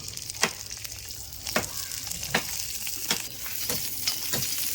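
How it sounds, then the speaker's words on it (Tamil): Ginger frying in hot oil for a pickle, a steady close sizzle with repeated stirring scrapes every second or so, no talking. "இப்போ இஞ்சி வதங்கிச்சு"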